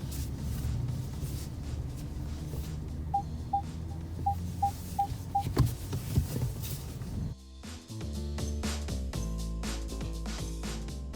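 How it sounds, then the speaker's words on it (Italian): A Peugeot 2008's 10-inch touchscreen infotainment system plays a row of about seven short, evenly spaced electronic beeps, followed by a fuller chiming tone pattern, heard close inside the car over a low hum. "Questo è il suono che la macchina fa per darci un'idea del volume"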